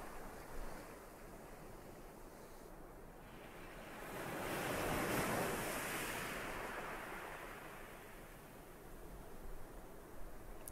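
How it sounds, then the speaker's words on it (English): Soft, steady wash of ocean waves with a gentle swell that rises in the middle and eases off, like surf rolling in from a distance. "It may be the sound of the gentle waves playing with your subconscious"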